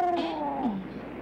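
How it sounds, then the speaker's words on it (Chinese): A cat gives a single drawn-out meow close by, its pitch sliding downward before it trails off, with no talking over it. "这是什么声音啊？ 一只猫"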